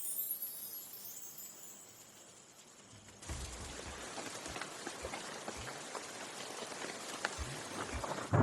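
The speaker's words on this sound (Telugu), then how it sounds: "వర్షం గట్టిగా పడుతుందిగా, తుఫాన్ వచ్చేలా ఉంది" Heavy rain falls at night in a thriller film scene, starting abruptly after a quieter stretch and then holding as a steady, dense patter with occasional low thumps.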